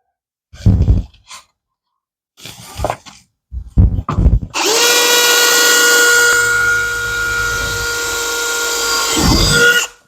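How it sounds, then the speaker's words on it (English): A power drill pre-drills a hole through an aluminum window frame for a retractable screen install, one loud steady whine of about five seconds after a few brief knocks and handling sounds, close by. "You pre-drill the hole on the aluminum, and then you shoot your screw"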